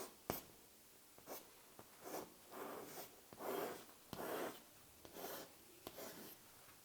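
Chalk or marker strokes on a board, a series of short scratchy rubbing bursts with a few sharp taps in an uneven rhythm, close and fairly quiet, with no talking.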